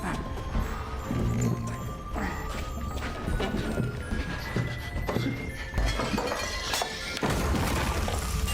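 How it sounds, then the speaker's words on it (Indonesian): An antique chest falls and breaks apart, giving a run of loud crashes, cracks and clattering impacts that keep scattering over several seconds. "peti ini pun terjatuh dan pecah"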